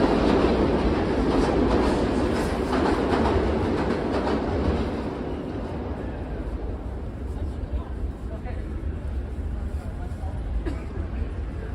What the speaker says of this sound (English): Just had to let the train go by.